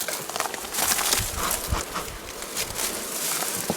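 Bees buzzing at a log beehive in the Cévennes in June, a dense, continuous hum of many insects close by, with scattered louder passes of individual bees.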